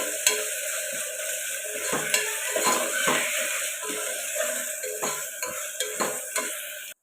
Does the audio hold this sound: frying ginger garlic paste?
yes